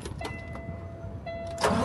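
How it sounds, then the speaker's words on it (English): A truck engine starts up at an auction yard; a brief cranking whine is followed by the engine catching loudly near the end, close by, with no talking. "let's see if this one start up"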